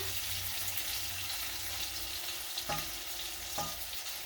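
Shrimp frying in a single layer in a pan, a continuous dense sizzle throughout, close up, with two brief clinks or scrapes partway through and no voices.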